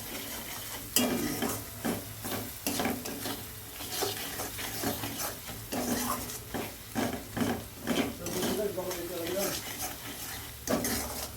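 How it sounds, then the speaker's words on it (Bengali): Spice paste is stirred and fried in oil in a pan, with repeated scraping strokes of a spoon against metal over a constant low sizzle, close and fairly busy. "ভালো করে মশলাটাকে কষাতে হবে যতক্ষণ না তেল ছাড়ছে মশলাটা থেকে"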